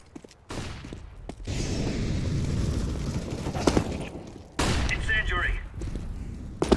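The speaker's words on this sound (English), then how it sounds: "Throwing flashbang." Rapid gunfire and grenade blasts in a tactical shooter game, including a flashbang, come as dense bursts of shots with a heavy boom and a sudden loud burst midway, plus brief in-game voice callouts.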